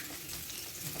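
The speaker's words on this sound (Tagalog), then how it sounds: "I-fry lang natin saglit." Onions fry briefly in a little hot cooking oil, giving a soft, steady, faint sizzle without voices.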